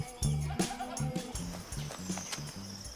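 Goats bleat repeatedly in a farm setting, a string of close, wavering nasal calls in quick succession, with some background noise and faint voices.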